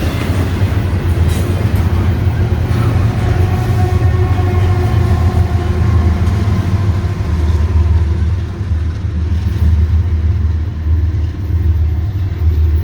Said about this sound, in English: That was 2 freight trains for you, all of you guys